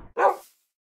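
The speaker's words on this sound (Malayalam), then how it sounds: "നായ്ക്കുട്ടി ഉണ്ട് കേട്ടോ" A single sharp puppy bark rings out in a multiplayer video game, loud and close, following a short stretch of faint low background noise.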